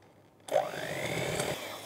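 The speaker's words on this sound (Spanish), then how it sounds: "a la velocidad más baja de la batidora vamos a batir aproximadamente dos minutos" An electric mixer starts up abruptly and runs steadily at its lowest speed, beating cake batter with a whirring, buzzing drone, close by and fairly quiet, with no talking.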